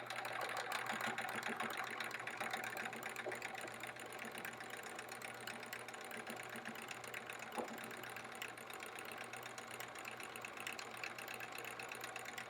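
A sewing machine stitches quilt-as-you-go sampler blocks in free-motion swirls, giving a faint, steady mechanical whir that runs continuously without pause.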